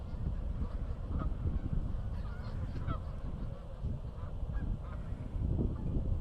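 Geese honk repeatedly at a distance beside water on a hot day in Rockford, Illinois, their faint calls scattered over a steady low background rumble.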